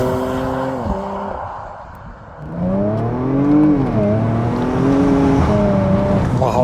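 Porsche Macan Turbo, a near two-ton SUV, pulls hard in second gear, its engine note climbing steadily in pitch with a brief dip at a shift-like pause, loud and close throughout with no talk.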